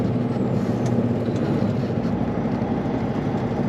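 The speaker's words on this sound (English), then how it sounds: "Sounds like Melton bringing in pipe here or returning." A Melton truck hauling pipe rumbles steadily at a moderate distance in cold weather, a continuous low engine drone with no voices over it.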